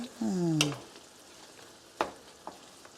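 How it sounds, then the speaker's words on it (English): Chili hitting hot oil in a pan beside bitter melon gives a brief loud sizzle and stir, then quieter scattered crackles and a couple of sharp clinks of a utensil against the pan. "Now I'm gonna add on some of the chili"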